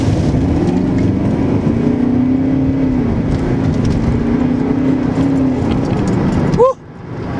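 Small car engine revving and racing past, a steady mid-pitched drone that builds and then cuts off sharply near the end, with a brief rising whoop at the close.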